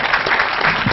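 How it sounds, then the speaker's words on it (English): Applause from a conference audience for panelists at a clinical forum, a dense, steady clapping that fills the short moment loudly and evenly. "we'll give a big round of applause to the panelists"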